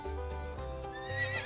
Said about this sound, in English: There were some farmers who worked so hard counting all the horses in the yard.